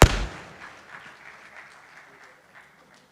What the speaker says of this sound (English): Please, please give him a round of applause once again,